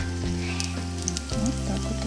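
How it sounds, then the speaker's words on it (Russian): Minced chicken breast cutlets fry in a hot pan, a steady close sizzle with faint spoon scrapes and light clinks over it and no talking. "Вот так вот оно будет у нас жарится, как оладушек, только это куриная котлетка."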